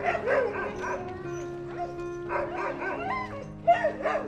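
A nine-month-old Rajapalayam dog gives several short yelping barks in quick bursts, near and moderately loud, with faint background sounds and no speech.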